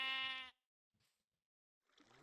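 A single short, reedy bleat from a Minecraft sheep opens, then near silence, with faint game sounds rising at the end.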